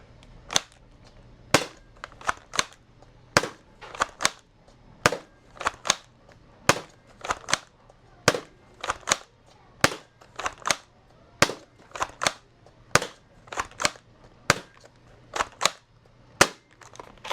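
A foam dart blaster fed from an 18-round slim short magazine fires dart after dart, each shot a sharp, close snap in a steady rhythm of roughly one to two per second, with no talking.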